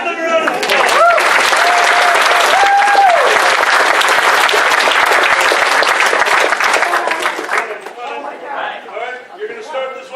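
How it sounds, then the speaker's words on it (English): A convention audience at an improv comedy show at Fursquared 2018 breaks into loud, sustained applause with some cheering that tapers off after several seconds, and people then begin talking. "Guys, give them a round of applause."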